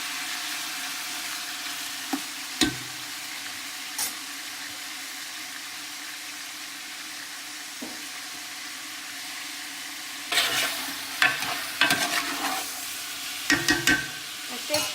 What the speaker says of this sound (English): Throw in all the sausage and add that to the mix.